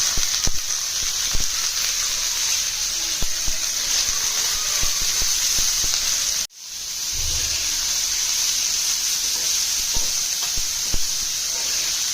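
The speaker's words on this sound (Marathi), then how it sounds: "पाण्याला चांगली उकळी आलेली आहे" Water boils in a pot on a home stove while Maharashtrian patavadi is cooked, a steady hissing bubble that continues alone with a brief break partway through.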